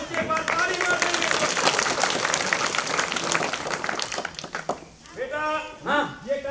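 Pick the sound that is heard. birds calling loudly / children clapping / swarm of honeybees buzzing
children clapping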